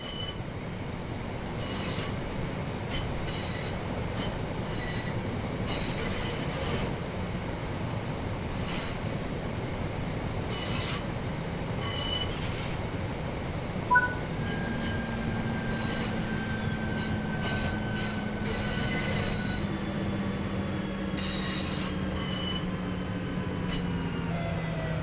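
A simulated train in Train Sim World 5 slowing to a stop under its power brake, a steady rumble of wheels on rail with long squealing brake tones rising in the second half, no voices.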